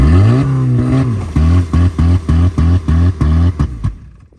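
A stuck Ford car, its engine half full of water, revs hard in a quick series of about eight loud, close bursts that rise and fall rhythmically before cutting off.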